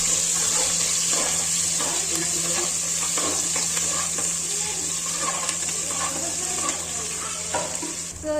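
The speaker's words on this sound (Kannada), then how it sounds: "ಎಣ್ಣೆ ಕಾದಿದೆ, ಉಳ್ಳಾಗಡ್ಡಿ ಹಾಕೋಣ. ಉಳ್ಳಾಗಡ್ಡಿ ಫ್ರೈ ಮಾಡೋಣ." Chopped onions fry in hot oil as part of a chicken sukka and rassa preparation, a continuous close sizzle with a faint steady hum and scattered crackles and stirring knocks.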